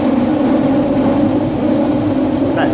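A very old grey London Underground Central Line train runs with a loud, steady rumble and hum heard from inside a carriage, continuous and unbroken throughout.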